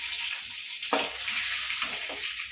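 Chana dal and cashews fry in hot oil, giving a bright, hissing sizzle that swells briefly as something drops in, close and moderately loud.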